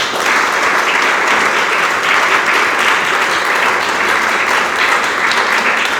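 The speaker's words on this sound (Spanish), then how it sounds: "Dele palmas al Señor." Dense, continuous applause from a congregation in a church during a pastor's sermon, loud and sustained for several seconds with an even roar of many hands and no talking over it.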